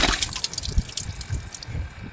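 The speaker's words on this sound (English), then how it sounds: "Now it's leaking because I got water." Coolant water drips and trickles from a leaking radiator thermostat housing on a 2018 vehicle, a close, steady wet patter with small irregular splashes and no voices.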